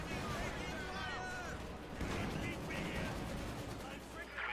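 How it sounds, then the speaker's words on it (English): Battlefield gunfire during an enemy attack on a headquarters in Company of Heroes 2, dense rattling shots and bursts layered with explosions and a busy combat din, with game voices over it. "Our headquarters is taking enemy fire."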